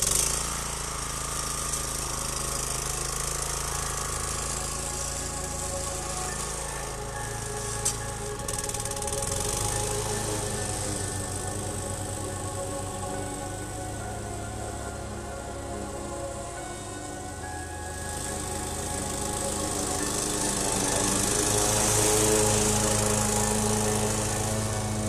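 Toro Commercial 21-inch walk-behind mower (22188TE) with mulch plug fitted, cutting grass: a loud, steady engine drone held close throughout, swelling slightly near the end, with no speech.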